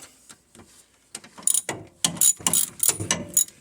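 A hand ratchet clicks in short bursts of rapid pawl ticks, close and fairly clear, while a car's half shaft is being removed, with brief pauses between cranking strokes.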